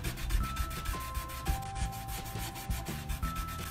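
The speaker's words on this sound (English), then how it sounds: "rub back some of the areas, especially along the corners where the paint would have worn." A lint-free cloth diaper rubs back fresh paint on wood, especially along the corners, making a steady, close scratchy rubbing with repeated strokes and no talking.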